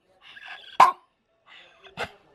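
A dog gives two sharp barks about a second apart, each led in by a short whine, close and fairly loud in a quiet indoor space.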